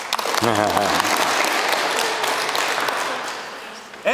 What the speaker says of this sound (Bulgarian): Що ми пляскате?